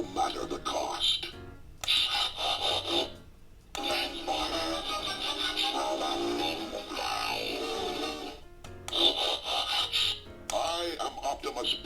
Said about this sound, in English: You have literal Transformer sound effects.